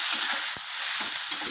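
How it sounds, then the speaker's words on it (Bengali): Kochur loti, or taro stolons, fry in oil with spices, giving a steady close broadband sizzle. A single brief clatter of stirring comes partway through. "ভালোভাবে তেলের সাথে কষিয়ে নেব।"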